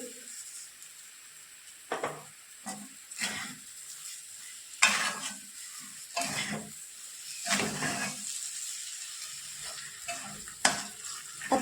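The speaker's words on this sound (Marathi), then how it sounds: "साखर यामध्ये छान मिक्स झाली" A spoon stirs sugar into semolina sheera in a pan, giving soft scraping strokes at irregular intervals with a faint sizzle beneath, close and fairly quiet.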